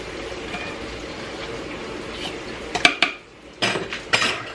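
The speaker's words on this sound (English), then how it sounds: "I'm going to fish out one of my lids, place it right on top." A metal canning lid is set on top of a jar of tomatoes, making a few sharp metallic clinks and taps near the end, heard close and fairly quiet against faint kitchen background noise.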